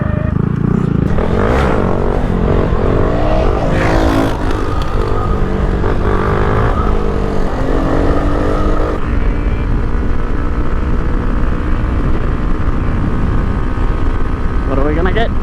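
A new Honda Grom motorcycle engine runs at full throttle during a top speed run, a loud, sustained buzzing drone with rising pitch early on, then holding flat under heavy wind rush.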